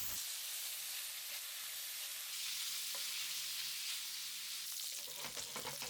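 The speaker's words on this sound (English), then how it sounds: "Stir fry the pork" Pork belly stir-frying in a pan for Japanese goya chanpuru, a steady close sizzle and hiss with occasional scrapes and clinks of stirring, growing busier near the end.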